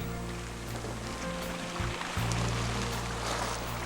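Small sea-worn beach pebbles off the shore of Yongchul village on Saengildo island, rolled by waves, give a steady, dense wash of water and grinding stones close by, continuous throughout with no voices.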